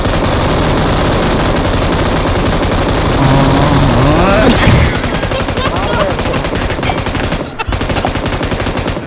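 An M249 machine gun fires long, loud continuous bursts in the mobile shooter BGMI, a dense rapid rattle running almost the whole time with a short break near the end, with an engine droning and a voice audible underneath.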